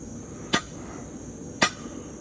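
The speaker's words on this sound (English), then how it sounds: "I know that this thing's pretty loud, so the striking anvil" A hammer striking hot metal on a striking anvil during blacksmith forging: two sharp, loud metallic clangs about a second apart, each ringing briefly over a low steady hum of shop noise.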